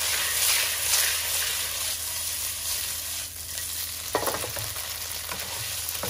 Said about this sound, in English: You pan fry them for a little while first before I cut them into smaller pieces using my spatula.